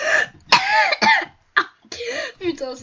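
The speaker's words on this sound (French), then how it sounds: "J'arrête pas de tousser." A man coughs and clears his throat repeatedly up close during a Minecraft game, several rough, raspy bursts in quick succession with short pauses between.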